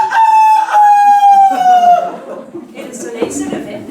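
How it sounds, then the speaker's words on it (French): A rooster crows at sunrise from a hut roof, one loud, long, falling call close by, followed by quieter scattered sounds. "Tous les matins, Doussou Kabo le coq montait sur le toit de sa case et il poussait un magnifique..."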